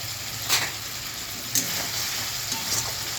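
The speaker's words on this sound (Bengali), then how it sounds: "মশলাটা কষিয়ে নিয়েছি" Spice masala fries in oil for a chickpea curry, a constant close sizzle with a few soft stirring scrapes of the spoon and no voices.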